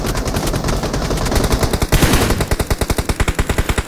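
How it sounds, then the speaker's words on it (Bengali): Dense automatic gunfire in the PUBG Mobile battle-royale game on the Livik map, loud continuous bursts that settle into a fast, even rapid-fire rhythm, with no talk over it. "ফায়ারের উপর ফায়ার দিতেছে।"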